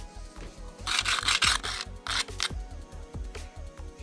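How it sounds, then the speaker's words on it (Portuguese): Sanding the corners of an acrylic netting board on a sidewalk makes rough, rhythmic rasping strokes in quick back-and-forth bursts, close and fairly loud, with no talking. "Agora é só levar ali na calçada, dar uma lixada nela. Lixar os cantos"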